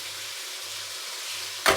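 Prawns and peas sizzle in vegetable oil in a pan for Indonesian nasi goreng, a steady close hiss that ends in a sharp utensil knock.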